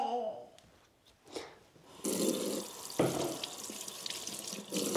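Tap water runs into a sink while dishes are rinsed, splashing and gushing in bursts after a quieter start, close by, with clinks and faint household noises and no clear talk.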